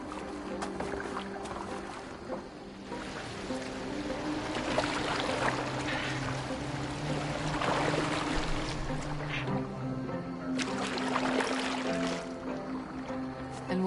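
A boat moves across water with a steady wash and splashing, fairly loud and continuous throughout.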